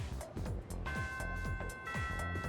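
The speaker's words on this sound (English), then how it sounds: "The first bell has rung." School bell chime in the video game Persona 3 Reload. A soft, sustained ringing tone sits over a busy, repetitive background of game music and ticking effects, with no voices.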